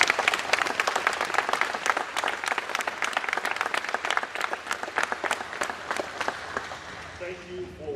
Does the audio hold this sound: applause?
yes